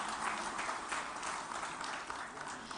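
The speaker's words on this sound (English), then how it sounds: "once a big round of applause for him" A steady wash of audience applause at the PLASTINDIA 2023 exhibition event in Hyderabad, dense and continuous, with scattered sharper claps throughout and no voices standing out.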